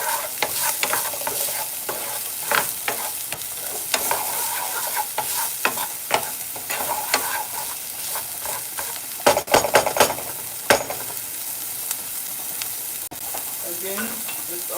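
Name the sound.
stirring vegetables sizzling in a pot for spaghetti sauce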